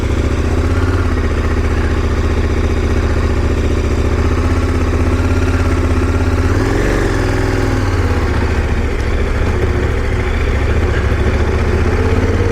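A KTM 1090 Adventure R motorcycle idles loudly and steadily while being turned around. The engine swells briefly midway before settling back to an even rumble, with no talking.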